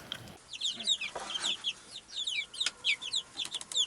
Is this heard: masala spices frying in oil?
no